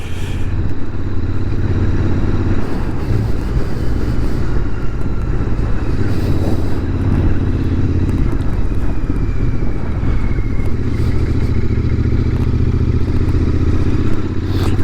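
A Royal Enfield Interceptor motorcycle rides along roads around Beaucaire in the Gard. Its engine drones steadily and loudly beneath heavy wind buffeting on the microphone, with occasional clatter and thumps from the road.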